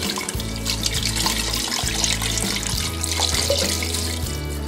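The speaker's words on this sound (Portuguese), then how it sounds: "1 litro de água," A litre of water pours steadily into a pressure cooker holding beef and coarsely chopped onion, a continuous splashing flow at close range with no talking.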